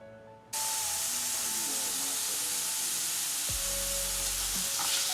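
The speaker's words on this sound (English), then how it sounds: "I'm going to saute the onions, the peppers, and the garlic for 5 minutes" Onions, peppers and garlic sauté in olive oil over high heat, a steady, close sizzle that begins abruptly after a brief near-silent start and continues loudly throughout, with a low rumble near the end.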